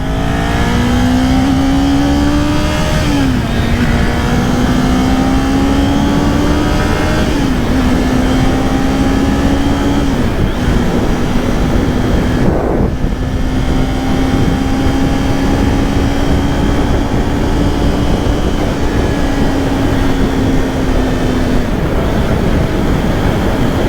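Honda Rebel motorcycle cruising on a highway at about 70 mph in sixth gear: a loud, continuous engine drone with rushing wind, its pitch stepping upward a few times as it accelerates, with no talking.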